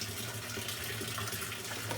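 A Whirlpool WTW5000DW top-load washing machine in manual test mode fills with water, a steady rushing hiss of inflow running unbroken and fairly close throughout.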